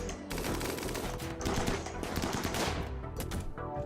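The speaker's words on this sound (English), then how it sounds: "Actually, if he's shooting at you," Gunfire in the video game RimWorld, with dense rapid bursts of shots crackling continuously in a sustained fusillade, loud and close throughout.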